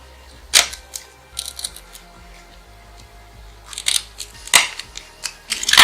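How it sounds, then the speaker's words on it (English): A handful of sharp, crisp snips at irregular intervals, close up, scissors cutting coarse horsehair, with quiet pauses between. "you can use your scissors and trim it back down a bit more"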